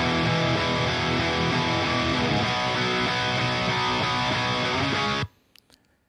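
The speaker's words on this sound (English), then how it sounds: "So for this song, I used this 5150 model, which is a high gain amp by itself." Dense, heavily distorted high-gain electric guitar through a 5150 amp model, played loud and continuous for about five seconds before cutting off abruptly, followed by a few faint clicks.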